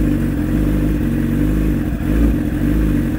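A 2011 Yamaha R6 sport motorcycle engine runs loud and close, with a steady throbbing idle and a few swells as it is revved, and no talking.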